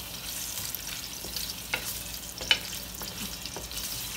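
Ginger hitting hot oil in a pan for chilli chicken feet adobo gives a steady close sizzle with a few sharp pops and stirring clicks, no voices.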